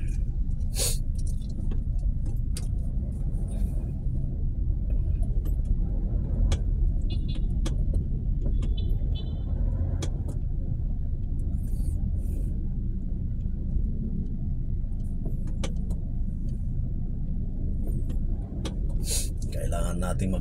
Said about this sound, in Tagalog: Back to normal na naman ang ating traffic sa EDSA